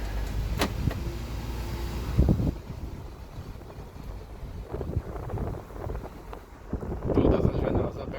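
Steady broadband wind roar fills the cabin of a Renault Fluence driving with all windows open, with engine and road rumble underneath and someone talking over it.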